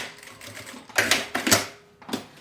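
A sewing machine runs a short backstitch on bias binding, with quick bursts of rapid mechanical stitching separated by brief pauses, close by.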